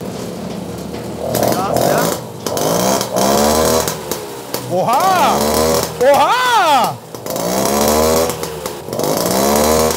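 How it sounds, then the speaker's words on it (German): A brand-new small two-stroke engine on a French Motobecane Mobyx moped revs loudly and repeatedly, rising and falling in pitch, while a nearby voice cheers excitedly between the revs. "wir hören jetzt 2022 das erste Mal diesen Motor"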